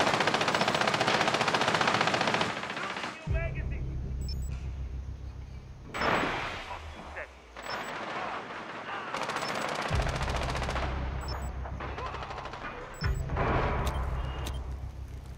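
Gunfire in Rainbow Six Siege, in a Skyscraper hostage team deathmatch, rattles in repeated loud automatic bursts separated by short pauses, close and harsh, with game effects between the volleys.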